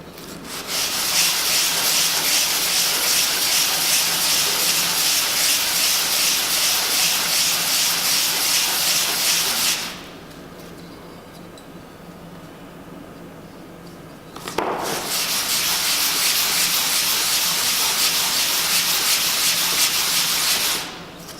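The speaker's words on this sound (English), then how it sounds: "so I'm just gonna sand that a little bit more" Hand-sanding a cast piece smooth and flat: a loud, continuous close rasping rub for about ten seconds, a pause of near quiet, then the steady sanding resumes until the end.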